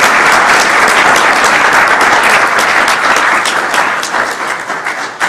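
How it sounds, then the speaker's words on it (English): Loud, close audience applause at an awards ceremony, a thick sustained burst of many clapping hands that holds strong and then thins and fades over the last second. "let's give the foundation and our city council members and our mayor a round of applause"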